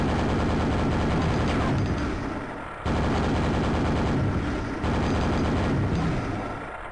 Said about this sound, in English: we're going to take the coward's way out and shoot them from down here.